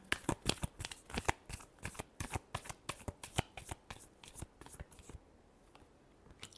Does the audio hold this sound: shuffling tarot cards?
yes